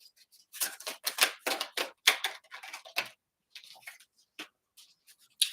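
Tarot de la Nuit cards being drawn from the deck make soft, irregular flicking and tapping bursts, some clustered and some spaced apart, quiet against a silent background.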